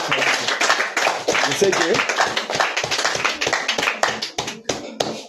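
A church congregation claps in a brisk, rhythmic beat, close and loud, with voices speaking and calling out over the clapping.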